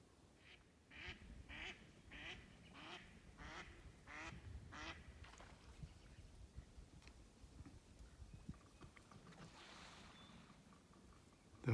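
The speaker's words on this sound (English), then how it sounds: "Ducks." Ducks quacking on a lake by a walking trail, a run of about eight evenly spaced quacks at moderate distance over steady outdoor ambience, then quieter scattered calls.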